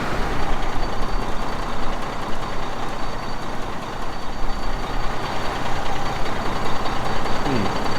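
A truck reversing into a shed, its engine rumbling loudly and steadily with a reversing beep, close by.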